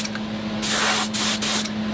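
Spray gun applying barrier coat onto pourable foam carbon fiber parts, a close, loud steady hiss broken by several short bursts as the trigger is pulsed, with a constant hum beneath.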